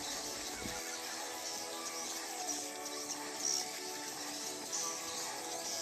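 A Scorpion Venom swiftlet lure call plays inside a swiftlet house: a dense, continuous chirping chatter of high twittering birdlike calls, steady and fairly loud throughout with small swells.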